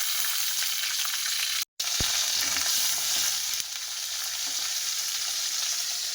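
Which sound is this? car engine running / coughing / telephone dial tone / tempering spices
tempering spices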